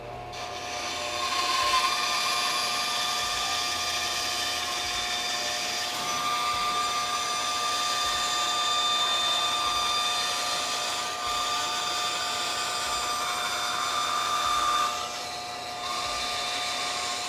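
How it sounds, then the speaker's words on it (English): A bandsaw runs steadily while it cuts material, giving a continuous whirring hum with a hissing edge that holds an even level throughout and dips slightly near the end. "we can be really careful with the bandsaw now"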